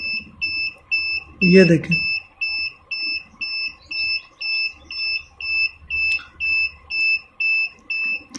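A UPS low-battery buzzer beeps in a steady, evenly spaced series of short, shrill tones at close range, with someone briefly speaking over one beep.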